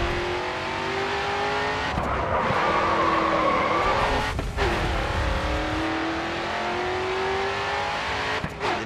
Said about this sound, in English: Next corner, let's see a drift.